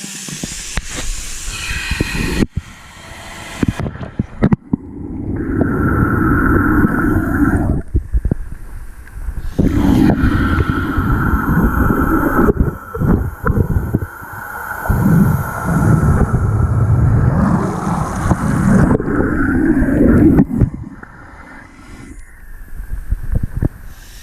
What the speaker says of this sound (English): I have not tried submerging it in water before.